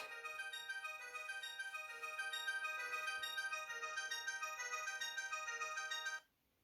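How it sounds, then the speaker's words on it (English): A bright electronic ringtone from an Avatar ET1 watch mobile phone plays a repeating melodic pattern for about six seconds, then cuts off abruptly into silence. "Let's check the ringtones out."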